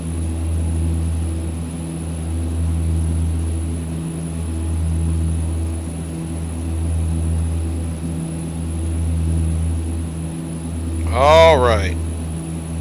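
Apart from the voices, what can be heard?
Saab 340 turboprop engines in flight, X-Plane 11 video game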